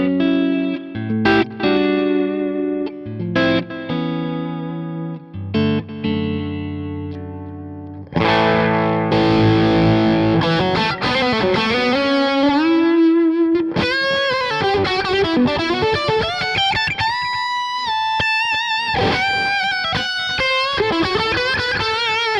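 An electric guitar played through a Synergy Syn1 tube preamp with a Timeline delay pedal rings out in distorted chords and melodic lead lines, and echoing repeats trail each phrase. It is loud and continuous, with no talking.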